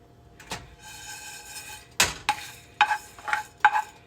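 Rice dry-roasting in a pan for Thai hot pot dip, with sharp scraping and clinking strokes of a spoon against the pan coming in irregular bursts over a quiet background.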